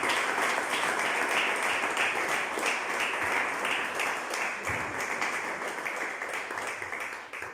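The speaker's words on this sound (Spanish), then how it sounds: "denle un fuerte aplauso al Señor Jesús." Applause from a church congregation at an evening concert, honoring Jesus: dense, steady clapping from a sizable crowd that fills the room and tapers slightly toward the end, with no talking over it.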